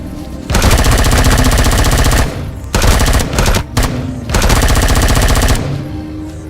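Rapid automatic gunfire rattles in long loud bursts with short pauses between them, shooting a baby creature in the survival game Empyrion, with no talking over it.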